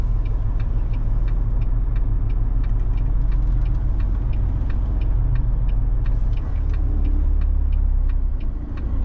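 A stream of cars passing in city traffic in Lviv, a continuous low rumble of engines and tyres close by with a faint repeating ticking, no talk.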